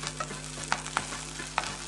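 Gongura leaves frying in a pan of hot tempering spices, with a steady low sizzle broken by a few sharp stirring scrapes and clinks, close and moderately quiet, no talking.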